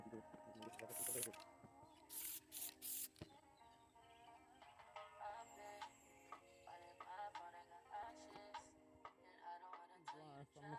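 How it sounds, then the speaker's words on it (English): A can of black spray paint hissing in a few short bursts, separated by pauses and light handling noises. "Then I'm gonna spray paint"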